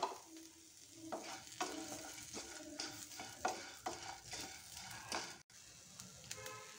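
Garlic cloves and shallots roasting in a pan over low heat, a soft sizzle under light stirring scrapes at an irregular pace, fairly quiet and close, with no voices.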